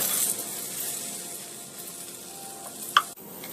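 Pancetta sizzles gently in a hot pan as its fat renders, a soft continuous crackle, then a single sharp clink of metal or glass near the end.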